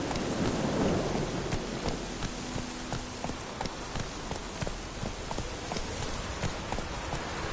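Steady heavy rain pours with low rumbling thunder underneath in the video game The Witcher 3 on PS4 Pro, a dense constant wash of sound.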